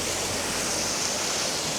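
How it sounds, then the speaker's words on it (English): A steady, broadband roar of rushing water at Blairskaith Linn waterfall, constant and full, like standing near a waterfall. "There's another waterfall."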